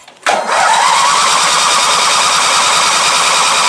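A 2001 Murray garden tractor's 20 hp Briggs opposed-twin engine cranks briefly, then catches and roars to a loud, steady run up close.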